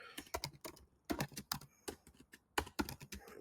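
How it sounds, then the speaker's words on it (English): Quick bursts of keystrokes on a computer keyboard, typed close up in uneven clusters with short pauses between runs, no voices. "I type"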